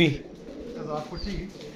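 Pigeons coo softly nearby in a low, throaty burble, while someone talks over them throughout.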